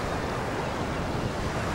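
Steady roar of breaking waves and gusting wind at Llanelli Beach in South Wales, a constant broad wash of surf and wind buffeting the microphone, with no voices.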